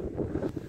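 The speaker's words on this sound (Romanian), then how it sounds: "Nici de mirare cu vânturile astea care bat aici" Wind gusting around an old house, a steady low rushing roar buffeting close against the microphone throughout the short stretch.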